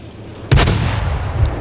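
A single heavy tank cannon shot from the M56 in World of Tanks console booms suddenly and loudly, then rolls off in a long decaying rumble with no voices over it.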